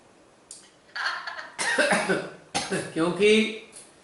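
Several harsh coughs come in separate bursts, close and loud, mixed with a person's voice during a Zoom workshop.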